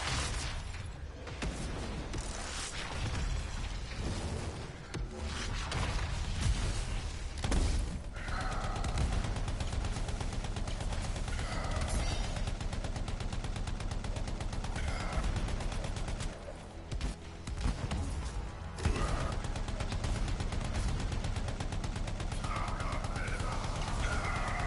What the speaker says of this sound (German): Ah, schneller Schuss, oder?